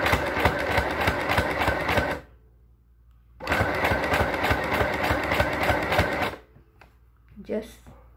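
A sewing machine stitches a mandarin collar on a shirt or blouse, running loud and close in two long rattling bursts with a pause between, then a brief voice afterward.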